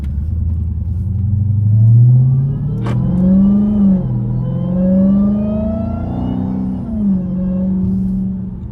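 A Dodge Hellcat with its mufflers cut off revs loudly up close, its deep exhaust rumble swelling and falling through several throttle blips with no talk over it.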